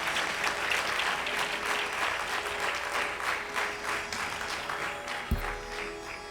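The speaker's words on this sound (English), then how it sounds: "please give them another round of applause." Sustained, dense applause from an audience at an arangetram dance recital, steady and full throughout with a brief thump near the end.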